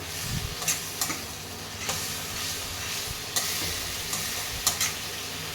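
Masala sizzling in a pan while being stirred for Bengali-style rui fish kalia, a steady hiss with a splash of water added, broken by a handful of sharp spatula scrapes and clinks.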